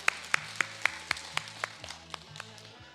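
Audience at a senior community college session in Korea clapping after a group stretching count, a steady run of separate, fairly sharp claps at an even pace that thins and softens toward the end, with no talk.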